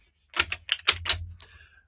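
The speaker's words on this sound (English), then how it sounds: "So let me shuffle these cards up here." A deck of cards is shuffled during a live reading, giving a quick run of crisp riffling bursts, close and fairly quiet, with no voices.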